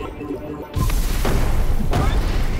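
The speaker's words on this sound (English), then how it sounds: "just press B on the Tesla coil, and that will destroy a big group of enemies." A Tesla coil blast in the tower-defense game Rain On Your Parade hits a group of enemies: a sudden loud booming burst that rumbles on, with further crackling hits.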